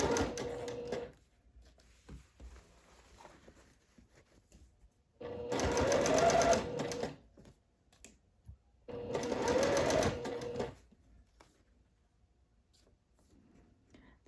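Close, fast whirring of a sewing machine running a seam on a seersucker dress, heard in three short bursts with near-silent pauses and faint handling noise between them.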